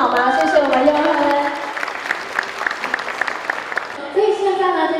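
Applause breaks out at a wedding banquet in a hotel ballroom, a crowd clapping fairly loudly between stretches of amplified voices speaking over the room.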